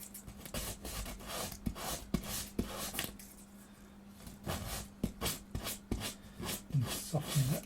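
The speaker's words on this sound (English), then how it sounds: "you can kind of smooth this quite a bit with sandpaper as we go, to blend the curves into each other." Sandpaper rubbing along the wooden X bracing of a guitar soundboard to blend and smooth the curves, steady rasping strokes in repeated back-and-forth bursts with a brief pause midway, close and moderately loud.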